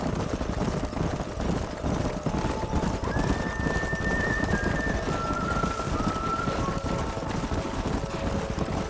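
Hooves pound and a horse whinnies during a canyon horse drive in the Red Dead Redemption video game, the galloping herd rumbling steadily over wind for several seconds with no one speaking.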